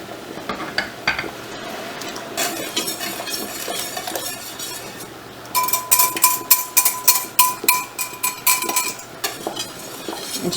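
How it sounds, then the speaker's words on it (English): Clear gel starch being stirred into sweet chili sauce in a pot at a boil, with scraping, clinking utensil strokes against the pot that turn into a quick, regular stirring rhythm in the second half over a soft bubbling background. "And stir, stir, stir."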